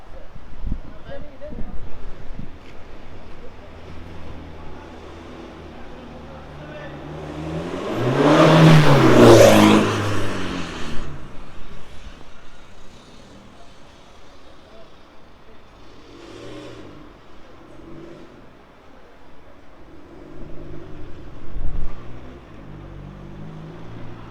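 A 2009-2012 VW Golf 6 1.6 diesel engine runs and revs up loudly through its exhaust for a couple of seconds, then settles back to a rumbling idle, with outdoor background noise around it.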